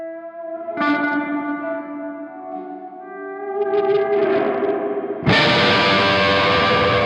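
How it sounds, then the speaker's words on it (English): Electric guitar played through a Dumble-style amp with the reverb turned fully up and run through the send and return, notes ringing out in a long wash, then a louder, denser strummed passage near the end with no talking. "The reverb is all the way up."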